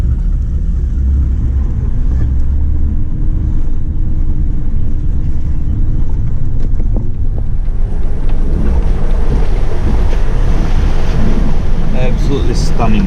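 An off-road vehicle crosses a creek in high country, a loud continuous rumble of engine and tyres pushing through water with splashing and wind noise layered over it.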